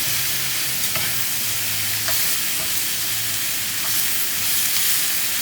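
Minced meat sizzles steadily in a pan while being stirred, with a continuous loud frying hiss and occasional soft scraping clicks from the utensil throughout.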